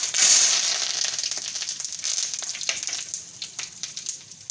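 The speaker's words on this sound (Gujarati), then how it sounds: "અને આપણે આ તેજપત્તું નાખી દેવું અને લાલ મરચાં નાખી દેવું અને મીઠો લીમડો નાખશું" Bay leaf, red chilies and curry leaves sizzle and crackle in hot oil in a pan, a bright spattering hiss that starts loud and settles into steady popping, with no voices.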